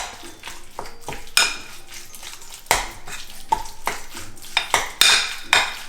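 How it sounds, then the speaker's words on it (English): Lasagna filling being mixed with cheese in a bowl, a utensil scraping and clinking against the bowl in irregular near strokes, several sharper knocks among softer stirring sounds, with no talk. "With the cheese. Mix it up."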